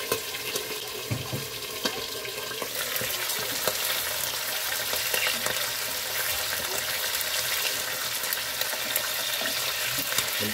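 Tuna fish fries in a pan of hot oil with a loud, dense crackling sizzle and spitting splatter, heard up close and continuous throughout, with faint talk in the background.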